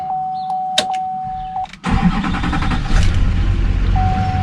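A Duramax diesel pickup, just fitted with a new primed fuel filter, cranks once after a repeating door chime and fires straight up into a loud, steady, close idle.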